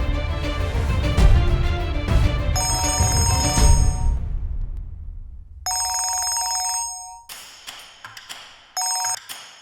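A telephone rings repeatedly and goes unanswered, loud bright electronic ring bursts broken by short gaps, with a dull thump early on and no voices.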